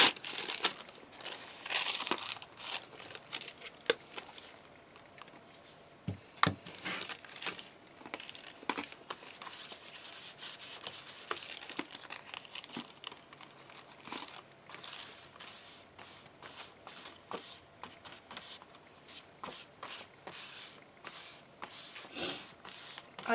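Star-patterned tissue paper is crinkled and handled up close, giving long stretches of dense crackling and rustling with sharper crumpling bursts and short pauses, with no talking.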